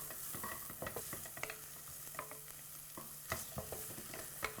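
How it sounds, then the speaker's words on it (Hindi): Chopped garlic and onions frying in butter are lightly stirred in a pan, giving soft scrapes and clicks from the spoon over a quiet, steady sizzle. "इसके अंदर जाएगा थोड़ा सा chopped garlic and chopped onions. इसे लाइटली हमें स्टर करना है।"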